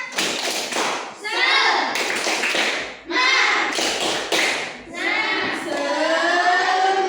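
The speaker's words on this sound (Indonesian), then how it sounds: "Tepuk semangat" A class of children performs a rhythmic spirit clap, sharp unison claps in quick patterned bursts mixed with their loud chanted voices, close and lively in a classroom.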